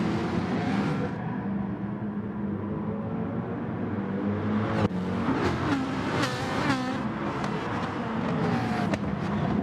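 Ferrari and McLaren GT race cars in GT Sport roar at Interlagos, Brazil, engines droning and then climbing in revving, shifting pitch as several cars run close together.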